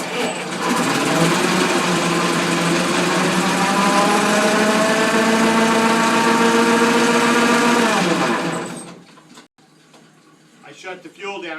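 A Ford Model T engine runs at a steady, buzzing idle close by for several seconds, then cuts out abruptly, leaving quiet with faint handling noises.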